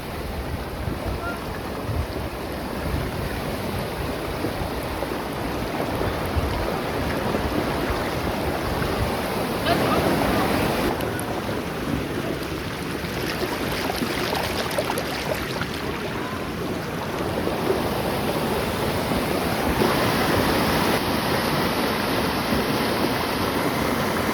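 Steady rushing floodwater with churning waves from an overflowing river after days of heavy rain, a broad constant roar that swells and eases slightly over time, with wind-like noise mixed in.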